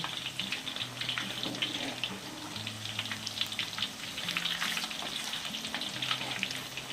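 Gourami fish frying in hot oil, a steady, dense sizzle with crackling spatter that holds close and fairly loud throughout, with no voices.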